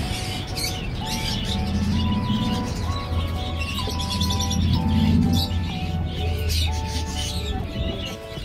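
Pigeons and other birds for sale at a market stall by Cheonggyecheon in Seoul give repeated chirps and soft cooing calls, heard up close within a dense, bustling market din.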